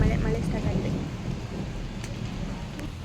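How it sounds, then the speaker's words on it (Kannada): Rain begins during a thunderstorm, a dense steady downpour hiss with a low rumbling undertone of thunder, close and fairly loud throughout, with no talking. "ಮಳೆ ಮಳೆ ಮಳೆ ಸ್ಟಾರ್ಟ್ ಆಗಿದೆ."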